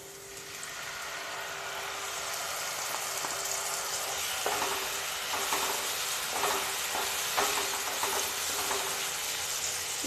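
Tomato paste hits fried onions in a pan and sets off a steady, bright sizzle with stirring scrapes, growing slightly louder and crackling in bursts toward the end.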